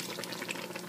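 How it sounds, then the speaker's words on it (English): Cabernet wine poured into a cooking pot of Cuban carne guisada, a brief soft splashing trickle, quiet and steady for under a second. "And about 3/4 of a cup of Cabernet."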